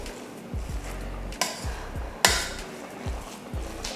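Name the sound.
ladle mixing and mashing cooked rice for sambar rice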